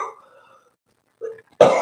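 A single sharp cough bursts out near the end, loud and close, after a few faint murmurs and a brief pause.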